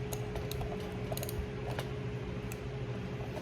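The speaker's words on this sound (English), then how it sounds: "tighten the wing nut fully on. Make sure to properly get the wing nut on." A ratchet tightens a wing nut on a bolt on a mini bike, its pawl clicking in quick irregular runs over a steady mechanical hum, close and moderately quiet, with no talk.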